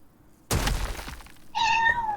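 A pet cat gives a single clear, close meow with a rising, tonal pitch. It follows a soft rustle or thump, and nothing else is heard.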